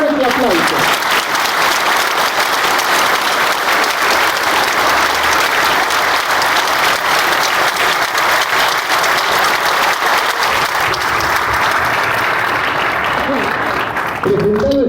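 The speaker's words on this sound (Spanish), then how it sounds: "el señor Fernando Tornelo, para quien pido un fuerte aplauso." Loud, sustained applause from an audience greeting a special guest at a Formula 1 talk event, dense steady clapping with some crowd noise lasting the full stretch, a voice briefly heard near the end.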